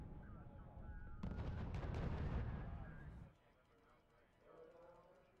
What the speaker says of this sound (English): no, he gets ambushed by the AT guns.